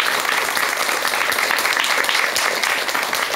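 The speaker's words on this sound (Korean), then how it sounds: "큰 박수와 함께 박사님의 강의 청해 듣도록 하겠습니다" Applause from an audience welcoming a doctor's lecture on Buddhism fills the room, dense and steady throughout with no talk over it.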